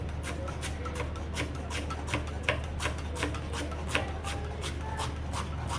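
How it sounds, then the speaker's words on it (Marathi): A knife chops fresh coriander on a board in a quick, even rhythm of soft close taps, steady and unbroken throughout, with no voices. "कोथिंबीर चिरून घेते"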